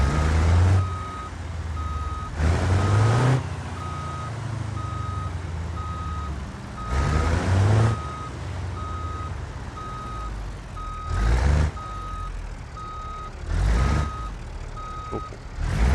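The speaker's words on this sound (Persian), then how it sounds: "ماشین پارک کنیم کنار اینا." A truck reversing in BeamNG Drive, with a steady series of evenly spaced electronic reversing beeps throughout, broken by several loud bursts of engine and air-brake noise.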